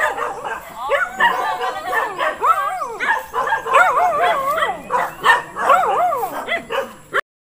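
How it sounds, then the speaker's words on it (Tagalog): Several dogs bark and yip in a busy, overlapping chorus at a home in the Philippines, loud and close and continuing without pause, with faint talk mixed in underneath. "kagulo na nga ang mga aso"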